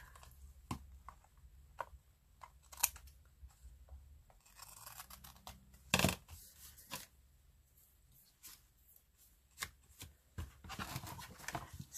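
Scissors cutting through paper card, close and quiet, with scattered crisp snips and rustles that grow into a denser burst of cutting near the middle, then resume in sparse clicks.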